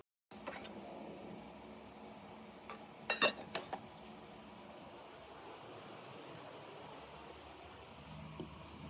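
Plates and dishes are set out in a home kitchen for a chai and roti meal, heard as a few sharp clinks and clatters of crockery in brief clusters, separated by quiet stretches of faint room noise.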